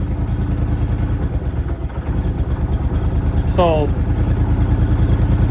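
A Honda Big Red ATV engine, carburetor fuel treated with stabilizer, idles steadily and loud and close with a throbbing low rumble, while someone talks briefly over it.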